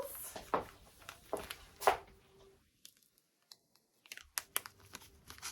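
Soft snips and crinkling tissue paper sounds from small scissors come in short irregular bursts, with a brief quiet pause in the middle before more rustling and cutting.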